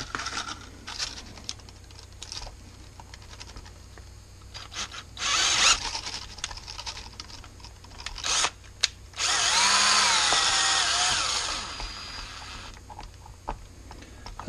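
A power drill whirs in short bursts with pauses between, drilling holes in a plastic bottle, the longest burst grinding loud and steady, amid handling clatter.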